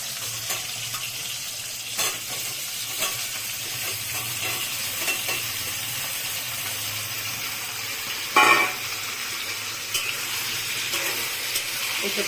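Tomato frying in hot oil with whole cumin for jackfruit and chickpea dal gives a steady close hiss and sizzle, with occasional stirring clinks and one louder scrape, no talking.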